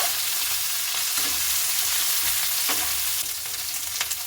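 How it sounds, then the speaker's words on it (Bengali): Radish pieces fry steadily in a hot pan, a continuous close sizzle with a few stirring scrapes and clinks, no voices. "মূলগুলোকে আমি দু এক মিনিট ভেজে নেব"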